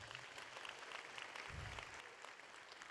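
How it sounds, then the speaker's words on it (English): Audience applause at an outdoor community show band concert in a memorial park, an even, fairly quiet patter of clapping from a crowd that holds steady for the whole stretch. "let's give him a nice round of applause"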